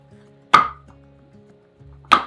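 Frozen mango cubes are popped out of a flexible ice cube tray, giving two sharp, close cracking knocks about one and a half seconds apart over a faint low hum.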